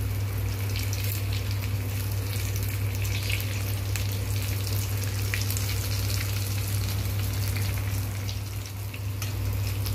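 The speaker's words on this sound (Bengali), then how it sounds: "একটু লাল লাল করে ভাজবো, তবে বেশ মুচমুচে হবে।" Potato lollipops frying in hot oil give off a steady, dense sizzle that crackles continuously and evenly throughout, close up, over a low background hum, with no talking.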